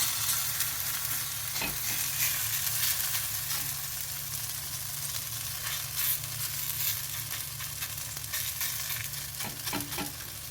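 Radish and wheat roti cooking on a hot pan, giving a continuous, even sizzle with occasional faint scrapes and ticks, steady and moderately close, no speech.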